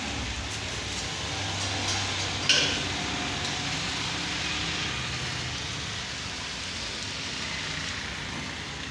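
Steady rain falling in Multan, a dense even hiss of drops on surfaces with one brief louder knock partway through, continuous and fairly close with no voices.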